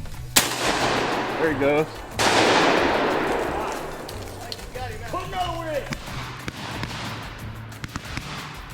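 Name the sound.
shotgun shots while squirrel hunting, 20 gauge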